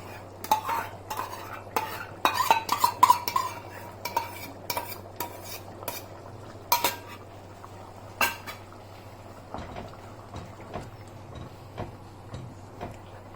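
Curd and mutton being stirred in a pot for rogan josh, a spoon clanking and scraping against the metal in bursts over a quiet low hum and faint sizzle, close by.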